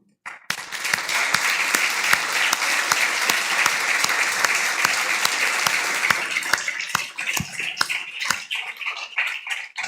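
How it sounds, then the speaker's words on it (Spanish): Church congregation applauding during a Sunday service, loud, dense clapping from a crowd that rises quickly, holds steady, then thins into scattered individual claps near the end. "un aplauso para Dios."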